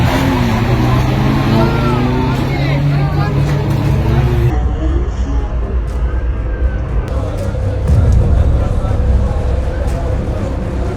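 Stock rod race cars crash during a race, giving a loud roar of engines and impact noise with crowd babble throughout. A sharp change partway through leaves a rougher, rumbling wash of sound.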